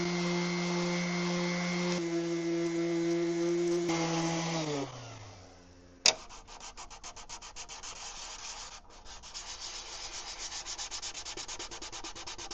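A cloth wiping a new car headlight lens before LED bulbs go in: a motorized whine winds down, a sharp knock follows, then rapid, steady, close rubbing strokes continue to the end with no talking.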